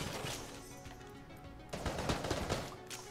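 Rapid bullet fire from Enter the Gungeon, a stretch of dense, crackling shots over a busy game-music bed, growing louder and denser in the second half.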